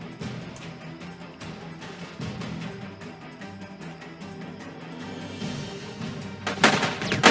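Sniper gunfire in the game Judgment: Apocalypse Survival, with repeated shots cracking at an irregular pace over a busy game soundscape, and a louder burst near the end.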